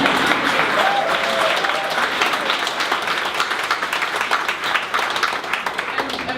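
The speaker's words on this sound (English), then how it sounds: "You could applaud at that," Sustained audience applause fills a Chicago Tech Day 2017 gathering of tech companies in Chicago, a dense, steady clatter of many hands clapping that holds evenly throughout with no voices over it.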